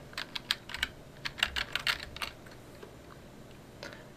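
Computer keyboard typing in a quiet room: a quick burst of crisp key clicks for about two seconds, then a single late tap, close and fairly soft with no talk.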